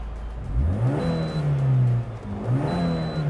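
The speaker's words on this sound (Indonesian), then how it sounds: "Boleh dong digas-gas dikit suaranya. Kita gas ya." Suzuki XL7 with a modified exhaust and the valvetronic valve closed, blipped twice up to a smooth, muffled rev with a whirring note, each rising and falling away, heard close and with no talk.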